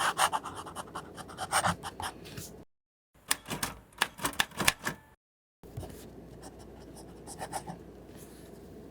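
Wet fine fountain pen nib scratching across paper in short bursts of quick strokes, close and crisp, with brief pauses between lines.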